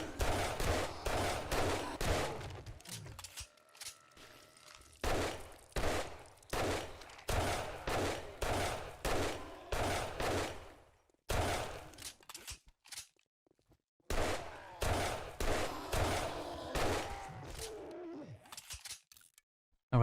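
Gunfire in the video game 7 Days To Die crackles in rapid automatic bursts from an SMG, loud and close, broken by short pauses and a longer gap before firing resumes.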